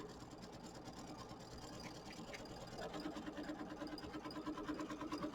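An embroidery machine stitches a placement line onto fabric for a Kimberbell mini quilt, giving a faint, steady mechanical whir with a rapid rhythmic needle patter that grows a bit stronger partway through.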